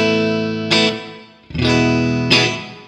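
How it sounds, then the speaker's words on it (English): Electric guitar through a JHS 3 Series reverb pedal with pre-delay: three strummed chords, each with a clear attack before a lush, sustained wash of reverb, loud and close, no talk. "If we add the pre-delay, it gives it just a moment so that the attack of your note comes through before the reverb gets started"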